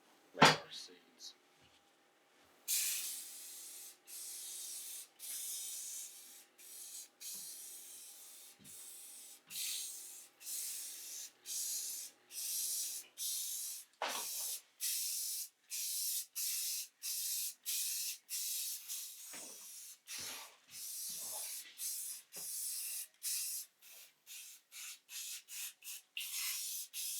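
Black spray paint coats the front of a guitar made to look like a watermelon, coming as a long series of close hissing bursts separated by short pauses, with a faint hum early on.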